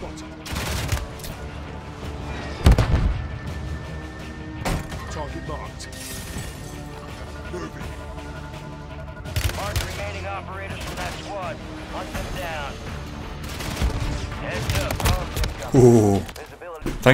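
Gunfire crackles through a Call of Duty Warzone match, with repeated bursts and single shots mixed with game effects and footsteps, while a player talks over much of it.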